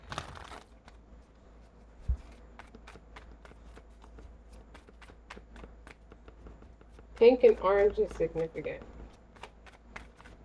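Tarot cards are riffled in a quick, crisp burst of shuffling that lasts under two seconds, with a few light card taps around it and a voice talking quietly throughout.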